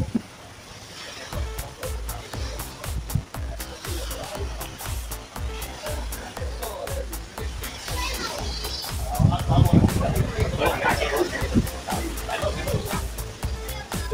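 Dogs barking outdoors on Lamma Island, Hong Kong, as a rapid, steady run of barks and yips mixed with children's voices and nearby people talking.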